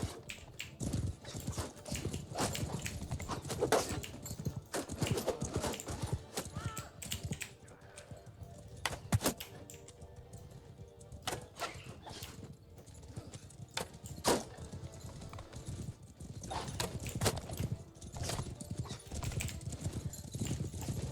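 Horses galloping during a Mount and Blade video game battle, a dense rapid clatter of hooves with occasional whinnies and battle noise, continuous and fairly close, with faint keyboard clicking underneath.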